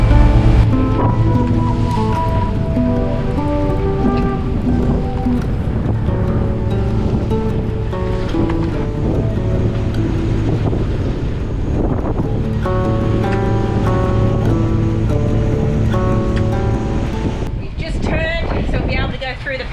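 Heavy surf and strong 20–30 knot wind buffet a sailing boat lying side-on to waves about 1.5 m high in the Whitsundays near Hook Island, a loud continuous wash and roar with music-like tones and talk layered over it.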